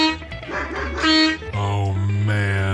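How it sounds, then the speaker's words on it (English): A dog barks and yips loudly at close range, a few sharp barks followed by sustained whining, tonal howl-like sounds. "the dog constantly barks at him"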